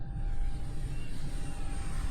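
An RC F16 jet model's electric ducted-fan motor runs at full throttle during a hand launch, a steady broadband whoosh and whine, continuous and moderately loud at close range.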